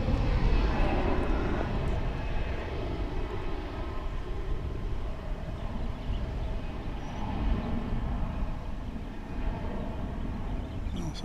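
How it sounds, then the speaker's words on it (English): A Frontier Airbus A321 takes off at Dallas/Fort Worth International Airport, a loud, steady jet engine roar that holds for about eleven seconds with no speech. "There's a Frontier plane, an Airbus A321, Frontier Flight 509, and it's going to take off for"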